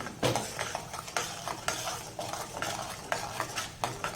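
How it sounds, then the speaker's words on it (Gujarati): Mango pulp and sugar stirred in a pot on the gas flame, heard as a close series of rhythmic scraping strokes and soft knocks of a spoon against the pot, steady and unaccompanied by any voice. "હવે આપણે સારી રીતે મિક્સ કરી લેવાનું છે આને"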